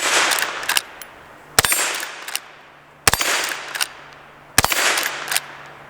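A Henry .22 Magnum rifle fires at a steel plate rack outdoors, four sharp shots spaced about 1.5 seconds apart, each followed by a ringing metallic clang from the struck plate.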